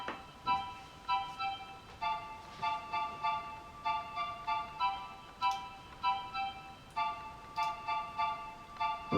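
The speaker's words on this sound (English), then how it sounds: "flute sort of sound, like a staccato flute" Staccato synth flute in a lofi hip hop beat, a short bright note repeated in a steady bouncy pattern with reverb tails, clear and moderately quiet, no voices.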